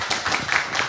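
Audience clapping to welcome a student presenter at a university blockchain talk, a short burst of close, steady applause with no voices.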